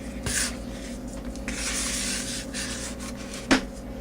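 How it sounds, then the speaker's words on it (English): A spatula scrapes around the inside walls of a mixing bowl of pumpkin pie filling, giving a steady soft rubbing and scraping close up, with a sharper knock near the end and no talking. "go ahead and use our spatula and just scrape the walls down"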